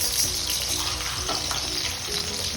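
Bean peels, black gram lentils and other dals frying in hot oil in a pan give a steady, close, loud sizzle that never lets up, with no one talking.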